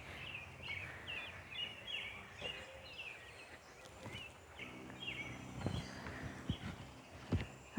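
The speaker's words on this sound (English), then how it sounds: "Hear a lot of birds, but that's about it." Scattered bird chirps and calls sound at moderate distance through the outdoor ambience, with occasional soft knocks and thuds nearby.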